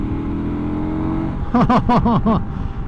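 A 2024 KTM 1290 Super Adventure R motorcycle engine idles with a steady hum, then revs sharply in about five quick rising bursts, close and loud.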